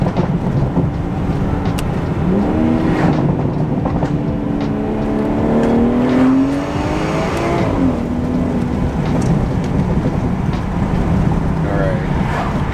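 A BMW E90 engine pulls hard under acceleration while driving, a rising and falling drone heard from inside the car at steady loudness, with wind noise and some talk mixed in.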